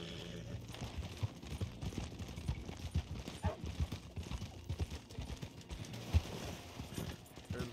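Horse hooves gallop in the Red Dead Online video game, a rapid, uneven run of soft thuds and clops at moderate level, with no clear speech.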